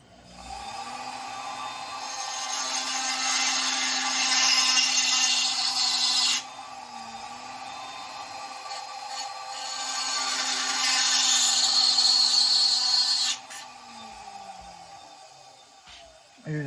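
A rotary tool with a small 1/8-inch double-cut bit grinds into the cylinder port of a Stihl 660 chainsaw. Two sustained, close grinding passes are separated by a steady motor whine.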